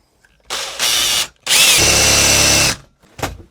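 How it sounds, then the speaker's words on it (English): A power drill fitted with a 22mm spade bit bores into a door to fit a Euro cylinder lock, two loud sustained bursts of whining drilling with a short pause between, then a brief final burst. "Now we can drill in with our 22mm spade bit, which is just a little bit wider than our Euro lock."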